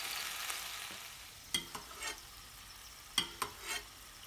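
Saddle of rabbit sizzling in a pan while being basted with a spoon: a faint, steady frying hiss broken by a few sharp scrapes and clinks of the spoon against the pan.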